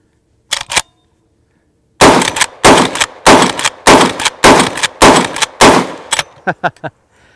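A Henry Big Boy magnum lever-action carbine fires several loud, close, sharp shots: a short pair first, then a rapid, fairly even string of about eight blasts, each trailing into a brief echo.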